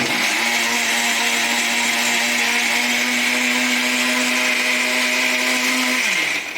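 Blender whirring steadily at full speed while puréeing ingredients for a seafood stew (cazuela de mariscos), loud and continuous for about six seconds before spinning down at the end.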